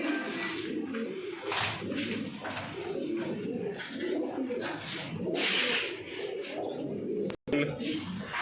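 Pigeons in a loft coo in a continuous low, throaty murmur, close and steady, with occasional wing flutters and people talking over them.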